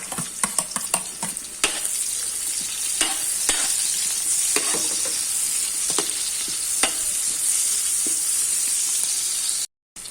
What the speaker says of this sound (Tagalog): na medyo mag-brown yung luya saka bawang. Yan, medyo okay na. Pwede na natin lagyan ng sibuyas.